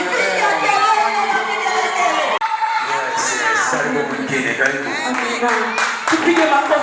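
A church congregation claps and cheers at a Sunday testimony service, a dense, loud and sustained wash of applause, shouts and whoops, with voices rising through the crowd noise.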